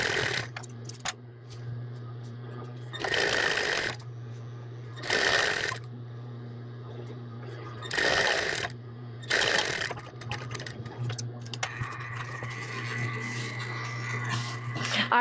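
Sewing machine hemming the edge of an apron fabric: several short bursts of fast mechanical whirring separated by pauses, close and moderately loud, with a steady low hum and a person talking throughout.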